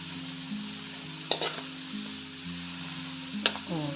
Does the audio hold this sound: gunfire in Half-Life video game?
no